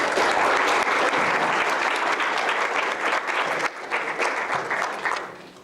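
A lecture audience applauds to welcome the speaker to the podium, a dense, sustained clapping that holds steady and then thins out and tapers toward the end.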